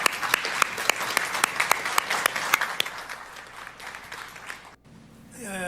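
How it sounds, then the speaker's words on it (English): A small group claps for military veterans, scattered distinct hand claps in a loose rhythm that thin out and fade, followed by a short rustle near the end. "I think we give a round of applause to the people who've served our country"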